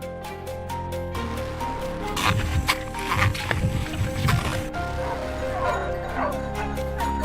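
Hunting dogs bark and yip during a wild boar hunt, a few rapid barks at first, then more scattered barking and whimpers mixed with outdoor noise.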